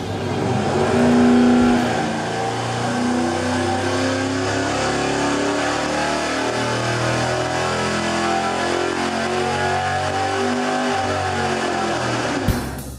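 An engine under load on a dyno with its alternator fitted pulls hard in one long sustained roar, pitch sweeping upward as revs climb, then cutting off abruptly near the end, loud and close.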